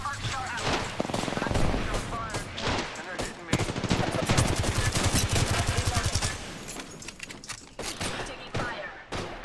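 Rapid bursts of automatic gunfire and scattered shots ring out loudly in an arena shooter match, nearly continuous for several seconds before thinning to a few sharp shots, with a player's voice talking over parts of it.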